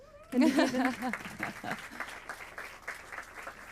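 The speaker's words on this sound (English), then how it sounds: "Small applause." A small audience at a rooftop knowledge day event in Rotterdam gives a modest round of applause, close and moderately loud at first, with a voice and some laughter near the start before the clapping fades out.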